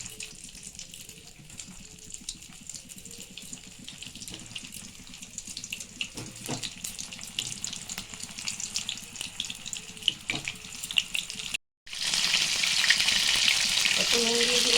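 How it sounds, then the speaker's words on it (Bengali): Pointed gourds sizzle in hot oil in a wok, a steady crackling fry with light stirring clatter throughout, then a louder burst of hiss near the end as more go into the pan. "তেলটা গরম হয়ে গেছে, আমি একটা একটা করে পটল ভেজে নেব।"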